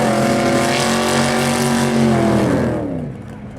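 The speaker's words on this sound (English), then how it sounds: "So here we go, burnouts for the two of them." Two drag racing cars do burnouts together at a no-prep drag strip at North Weald, a loud sustained engine roar with rising and shifting revs that holds steady and then fades slightly at the end.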